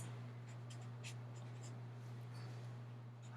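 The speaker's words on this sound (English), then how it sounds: "I'm just going to rework this problem onto another piece of paper." Pencil writing a math problem on paper, soft scratchy strokes in short bursts over a steady low hum, faint and close.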